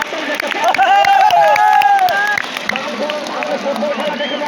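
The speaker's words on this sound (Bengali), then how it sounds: "এবারে দেখবো বিশ্ব চ্যাম্পিয়ন আর্জেন্টিনা সাপোর্ট করে যাদের, তাদের হাততালি দেখতে" A crowd of spectators cheering and clapping in support of Argentina at a football final, a loud sustained mix of applause, whistles and shouting voices.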